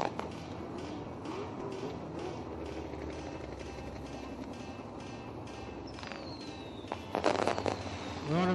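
Fireworks at a 360 sprint car race night crackle and pop in a dense, continuous barrage under crowd noise, with a few louder bursts near the end.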